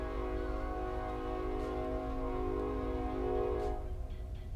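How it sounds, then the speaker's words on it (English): A train horn sounds steadily and loudly as a train rumbles past nearby, its sustained tones layered over heavy low rail noise, with no talk. "I live near a train."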